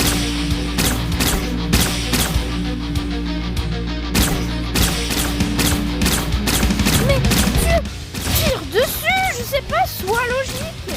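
Rapid video game gunfire in Mr Hopps Playhouse 2, dense repeated shots forming a loud continuous fusillade for most of the stretch, then thinning into scattered bursts mixed with electronic game tones near the end.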